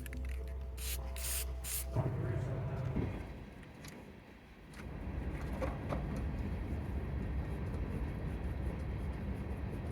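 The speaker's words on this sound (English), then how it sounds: "we're just testing out, see how this grill will look with the black spray paint" Black spray paint hissing from an aerosol can onto the grille of a 1975 Chevy C10 truck, with several short close bursts at the start followed by quieter outdoor background noise.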